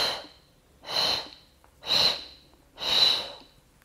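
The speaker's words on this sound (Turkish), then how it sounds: "derin bir nefes alıp tek nefesi 3'e bölmek, 4'e bölmek, sonrasında 5'e bölmek" A controlled pregnancy breathing exercise, with four separate breathy exhalation bursts spaced about a second apart, close and clear against quiet, each rising and fading smoothly.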